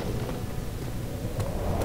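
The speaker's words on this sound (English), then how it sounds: "Oh no, it's windy." Wind gusting in the horror video game Amnesia, a low steady rushing roar with soft swells and no voices.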